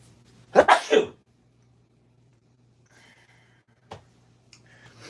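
A single loud two-part sneeze bursts out close by, set off by spring pollen, followed by quiet breathing and a faint short cough-like sound.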